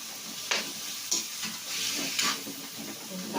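Ground pork being sautéed in a pan for a Filipino pork giniling omelette, giving a steady close sizzle with a few sharp scraping stirs spaced through it, and no talk.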